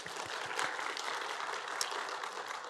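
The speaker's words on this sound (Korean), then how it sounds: "영광의 박수." Church congregation applauding during a service, a steady, moderately quiet patter of many hands clapping throughout.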